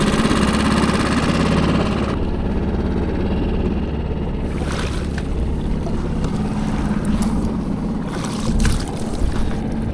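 A solo skiff's outboard motor idles while warming up outdoors by a marsh, a steady low engine rumble running throughout with wind buffeting the microphone and gusty noise bursts over it.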